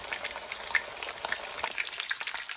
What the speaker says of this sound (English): I melted about 4 to 6 tablespoons of lard in the Dutch oven, and now we're just going to continue to cook it until all of the sides of the beef are browned